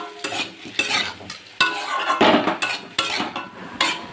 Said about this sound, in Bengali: এবারে মিডিয়াম টু লো ফ্লেমে একটু ভালো করে কষিয়ে নেব মশলার সাথে